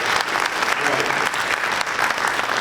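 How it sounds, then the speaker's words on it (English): At a Star Trek Lower Decks Q&A panel at Collective Con 2026, the convention audience claps warmly in a continuous round, with a voice briefly audible within the applause. "Collective Con, let's give them a round of applause."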